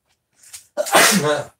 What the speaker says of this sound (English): the seasoning is strong. It made me sneeze.